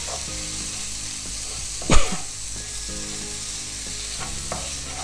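Chopped tomatoes with garam masala sizzling in a pan for crab curry, a steady frying hiss with scraping stirs and one sharp louder burst partway through.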